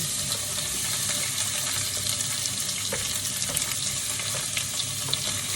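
Meat sizzles loudly in a pan with cooked garlic, a steady close frying hiss broken by the scrape and clatter of stirring.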